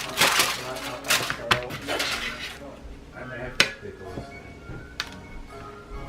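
A knife chops peppermint bark chocolate on a cutting board in a home kitchen, giving irregular sharp taps and clacks, some close and loud, with a few scattered knocks and faint voices in the background.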